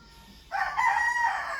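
A fighting rooster crows loudly and close by, one long cock-a-doodle-doo starting after a brief quiet moment and holding strong to the end.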